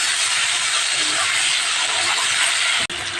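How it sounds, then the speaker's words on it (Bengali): Potatoes dusted with turmeric fry lightly in a pan, giving a steady, loud, hissing sizzle that holds evenly and then cuts off abruptly near the end. "আলুটা একটু হালকা ভেজে নেবো তারপর ডাটাটা দেব"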